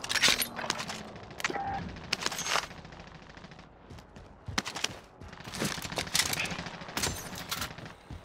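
Rapid bursts of automatic gunfire in a battle-royale shooter, crackling in several separate volleys with brief pauses between them, fairly close and sharp over quiet background game sound.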